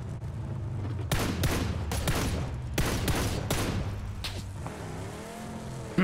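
Bursts of gunfire in PUBG ring out over a steady vehicle engine drone, several sharp shots in quick clusters aimed at car tires, loud and close with no talk.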